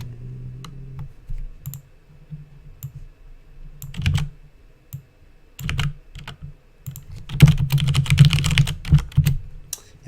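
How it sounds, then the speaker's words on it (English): Rapid clattering keystrokes on a computer keyboard during a chess-programming session, coming in uneven bursts with short pauses, growing denser and louder near the end, close by with no talk. "Super weird keyboard, I can't find my or symbol."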